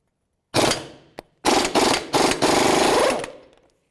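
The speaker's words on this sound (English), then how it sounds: "32mm socket, we're going to remove the axle lock nut" An impact wrench with a 32mm socket works a CV axle lock nut loose on a 2005-2009 Subaru Outback: a loud rattling burst, a brief blip, then several hammering bursts close together, ending in a longer run that fades out.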